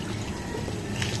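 Water pours steadily with a soft, continuous trickling splash at a quiet level, heard up close in a home setting.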